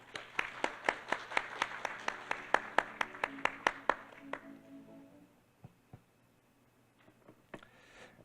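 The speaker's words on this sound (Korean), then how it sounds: "여러분 뜨거운 박수 부탁드립니다." Sparse applause at an ESG conference as a speaker comes on stage, a handful of sharp, separate claps in a quick run that thins out into scattered late claps in a quiet hall.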